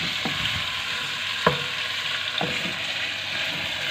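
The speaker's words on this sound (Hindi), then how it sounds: "फिर इसको अच्छी तरह है चिकन को हम भून लेंगे" Chicken pieces for karahi sear loudly in a hot pan, a continuous dense sizzle broken by three or four distinct spatula scrapes and knocks against the metal, with no talking.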